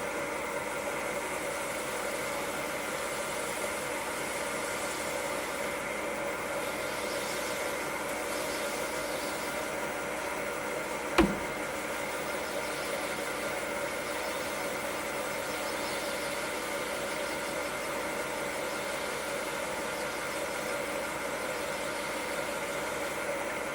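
Wood lathe turning a pen blank at about 330 RPM, a steady, even motor hum with a constant tonal whine, and a single sharp tap near the middle, with no talking.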